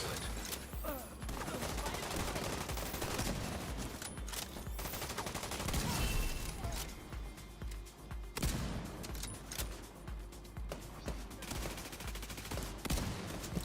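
Rapid, sustained gunfire from the shooter video game The Division, loud and dense with bursts overlapping almost without pause for the whole stretch, and no talk over it.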